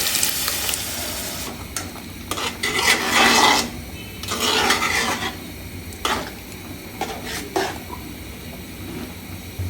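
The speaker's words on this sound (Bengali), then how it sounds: "এই যে ডালগুলো আমি এখন দিয়ে দিচ্ছি এখানে।" Red lentils are tipped into a pan of fried spiced masala for a drumstick-stalk masoor dal, followed by a faint sizzle and bursts of scraping stirring against the pan, close and without talk.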